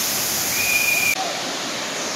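Gandahathi waterfall in Gajapathi district, Odisha, roars as a steady broadband rush close by, with a faint tonal whistle briefly riding over it before the noise shifts slightly in character.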